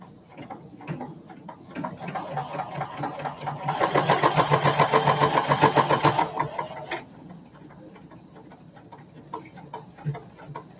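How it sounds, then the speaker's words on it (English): A home sewing machine back stitching on fabric, a steady rapid mechanical chatter of the needle that grows louder and denser in the middle, then eases back to lighter, intermittent stitching. "I'm back stitching away."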